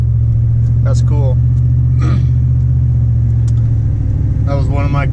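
A 1999-2006 Chevrolet Silverado pickup with a new transmission tune drives in tow/haul mode, its engine a loud, steady low rumble heard from inside the cab, with a person talking briefly over it.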